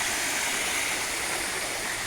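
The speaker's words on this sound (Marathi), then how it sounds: "मिनी वॉटरफॉल आहे बघा." A small natural waterfall in a jungle stream pours steadily, a dense continuous rushing hiss of water close to the listener with no voices over it.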